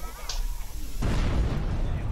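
A heavy explosion in the Overlord video game, a sudden loud blast about halfway through that roars on as a dense rumble, after a quieter lead-in.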